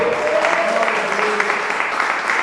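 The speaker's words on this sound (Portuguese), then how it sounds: "Aplaude e glorifique o nome do Senhor." A church congregation at a Brazilian Portuguese service claps in a steady, dense wash of applause. It is loud and continuous throughout, with voices mixed in beneath it.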